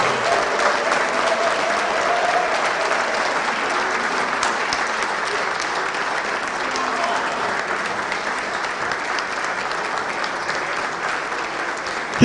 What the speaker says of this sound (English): A big round of applause for the chairman until he mounts the podium.